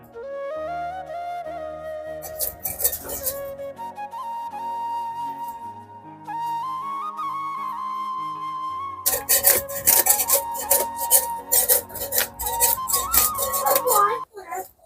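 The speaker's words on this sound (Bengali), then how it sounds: "জ্যান্ত অবস্থায় মাছের আঁশগুলো ফেলে দিচ্ছি।" Scales being scraped off a live shoal fish (snakehead) with a blade: rough rasping strokes in bursts, growing denser and louder toward the end, over steady background music.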